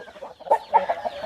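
A Kaki breed rooster about a year and a half old, on a farm in Machilipatnam, gives a short run of close, distinct clucks, four or five sharp calls in uneven rhythm.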